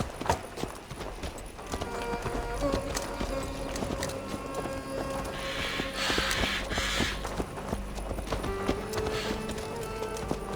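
Horses clip-clop through a small town in the video game Assassin's Creed Valhalla, steady hoof beats over a busy bed of ambient game sound and creaks.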